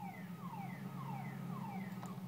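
A car alarm in Grand Theft Auto IV whoops in quick, repeating falling tones, about five sweeps in two seconds, over a steady low engine hum.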